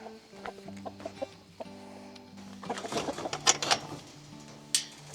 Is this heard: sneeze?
no